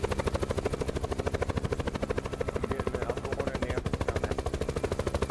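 Video game helicopter ride heard from a passenger seat: a loud, steady rotor chop with rapid even pulsing throughout, and no talk over it.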